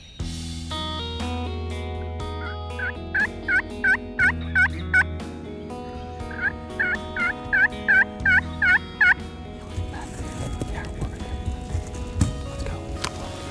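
A wild turkey in Mississippi gobbles in two bursts of rapid, ringing gobbles, loud and fairly close, set against background music, with rustling noise afterward.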